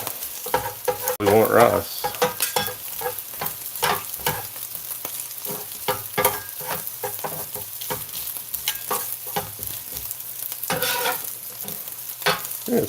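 A spatula scrapes and breaks up sweet chili pork fried rice in a hot pan. The rice sizzles steadily under repeated clattering stirs, and a voice speaks briefly.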